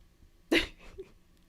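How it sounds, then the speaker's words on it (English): A single sharp sneeze bursts out close by in a quiet room, followed by a short exhale. "Hold on, I gotta sneeze."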